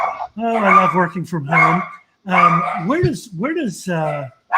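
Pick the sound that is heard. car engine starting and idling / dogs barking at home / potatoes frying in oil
dogs barking at home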